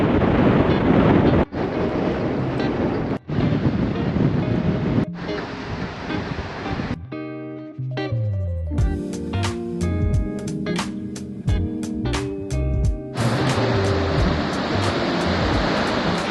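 Wind on a beach in Boa Vista, Cape Verde, roars and buffets the microphone in loud, dense gusts, broken midway by a stretch of tonal musical notes before the wind noise returns.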